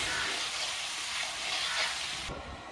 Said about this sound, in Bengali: টমেটো আর পেঁয়াজ একসাথে চলছে ভাজা